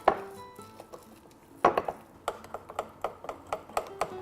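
A whisk or utensil taps and clicks against a bowl while pakora batter is mixed, with sharp regular strokes that start sparse and settle into a steady rhythm, fairly quiet and close.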